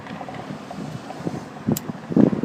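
Gusty outdoor wind buffeting the microphone while someone tries to light a cigarette, with rumbling low bursts that swell louder toward the end and a brief sharp click in between.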